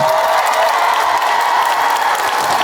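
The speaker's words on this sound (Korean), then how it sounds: "큰 박수 한번 주시겠어요" A large outdoor crowd at an autumn temple music concert gives a loud, continuous round of applause, dense clapping with faint cheering throughout.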